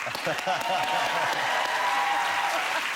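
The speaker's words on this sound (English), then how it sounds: "We're getting an American-style round of applause for that." Studio audience on a British TV chat show applauds steadily for the full stretch, a dense continuous wash of clapping with a few voices cheering faintly beneath it.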